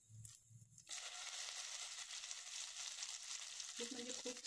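Green garlic chutney ground in a mixer sautés in a hot pan, a steady bright sizzle that starts abruptly after a few clanks and continues evenly, close and fairly loud, with a faint stirring knock near the end.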